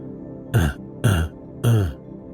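Three hoarse, voiced coughs in a row, close and fairly loud, evenly spaced with brief pauses between them.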